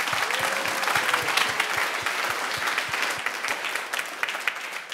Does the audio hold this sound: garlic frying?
no